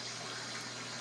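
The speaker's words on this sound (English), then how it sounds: "When this is the sound of a waterfall in nature" Steady broadband rush of falling water from a waterfall, used as a sound effect in a radio advert, continuous and even throughout with no voices.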